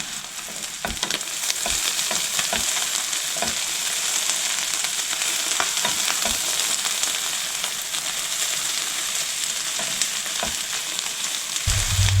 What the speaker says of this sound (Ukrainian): Цибулька підсмажилася